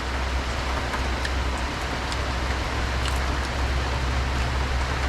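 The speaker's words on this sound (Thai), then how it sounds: "ฝนก็ตกมาอย่างต่อเนื่อง เลย ครับ" Heavy rain pours continuously during a storm in Thailand, a dense even hiss with occasional louder droplet taps and a low rumble underneath.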